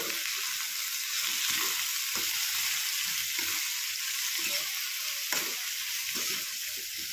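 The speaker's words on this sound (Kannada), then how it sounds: "ಈಗ ಮತ್ತೊಂದು ಸರ್ತಿನ ಕಲಿಸ್ಕೊಳ್ತೀನಿ ನೋಡ್ರಿ" Spiced eggplant fries in a pan with a constant loud sizzle, while a spoon scrapes and stirs at an uneven rhythm, closely miked, with no one speaking.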